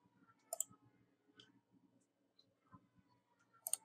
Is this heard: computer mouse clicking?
yes